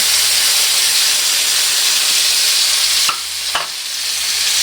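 Ginger-garlic paste and ground masala hitting hot oil in a pan while cooking chicken maharani, a steady loud sizzle and hiss with stirring scrapes, briefly dipping as the paste goes in.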